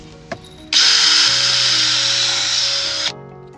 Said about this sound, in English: because we're going through Kwila, which is a hardwood, just using a countersink with a pre-drill piece as well